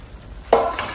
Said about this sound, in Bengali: আলুগুলো আমি আগে ভেজে নিয়েছি, হালকা করে ভেজে নেবো